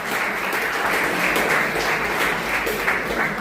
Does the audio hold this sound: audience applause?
yes